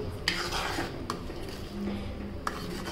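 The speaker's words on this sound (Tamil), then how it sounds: "இது நல்லா கிளறி விட்டு" Curd being stirred into a curry gravy for parotta kurma in a pot, with a few sharp metal ladle taps against the rim over a steady low background hum.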